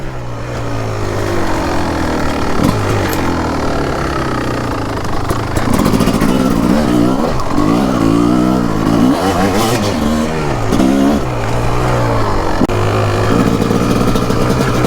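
A 2004 Kawasaki KX 250 two-stroke dirt bike engine revs and bogs repeatedly while being ridden on tight, technical terrain, loud and close with rising and falling throttle bursts.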